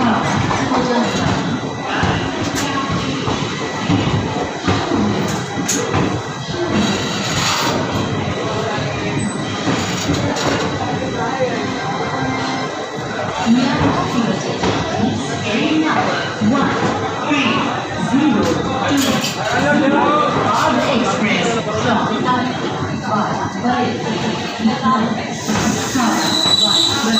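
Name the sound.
train arriving, AC three-tier coach, Lucknow route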